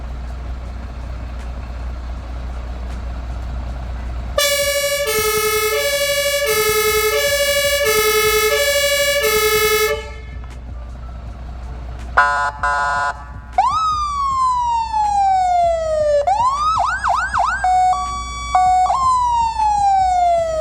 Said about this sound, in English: Next up is the siren test of the 3 sirens installed at the time of the factory acceptance